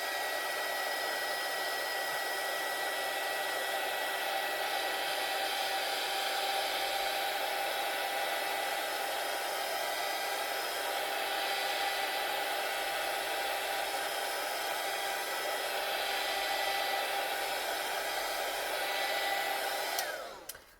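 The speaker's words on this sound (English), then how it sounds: "I'm going to use the heat gun again" Heat gun blowing steadily on a paper craft journal page, a continuous loud whooshing roar running nearly unbroken for about twenty seconds before cutting off abruptly at the end, with no talking over it.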